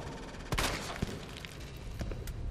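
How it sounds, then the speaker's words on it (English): Gunfire in Resident Evil 2 Remake, a few sharp shots at irregular intervals over a dense, noisy background rumble. "I gotta keep shooting it."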